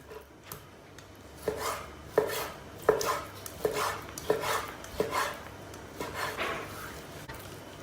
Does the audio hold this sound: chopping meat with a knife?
yes